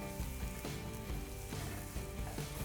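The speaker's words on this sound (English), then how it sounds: "Okay, we fried them for 5 minutes." Finely chopped mushrooms and courgette with a bay leaf sizzling and frying in a pan for vegan lasagne, a dense, steady crackle with small stirring bumps, close and continuous without talk.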